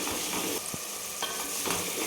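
Steady close sizzling of masala frying in oil for mutton curry, with a few soft scrapes and taps of stirring breaking through the hiss.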